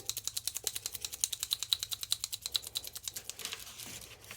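Paint markers are shaken to mix their ink, making a fast, even rattle of clicks, close and fairly quiet, that fades near the end.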